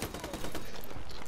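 Rapid gunfire in Call of Duty Remastered during a hardcore search-and-destroy match, a dense, loud burst of shots filling the short moment with sharp repeated cracks.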